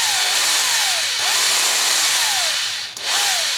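An electric drill spins steadily while twisting lengths of wire for a handmade wire tree, giving a continuous close whirring with a rubbing, rising-and-falling tone and a brief dip near the end.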